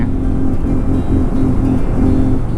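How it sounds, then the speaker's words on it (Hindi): A motorcycle engine drones steadily and loudly up close on the road from Delhi to Udhampur, with a low rumbling pulse and slight rises in revs throughout. "और ऊपर से अपनी बाइक क्या रोर कर रही है,"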